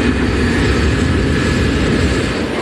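A KLM Boeing 747 jumbo jet gathering speed on a foggy runway for takeoff: a loud, steady engine roar with a broad rumble and a sustained high whine, continuous throughout and with no voices over it.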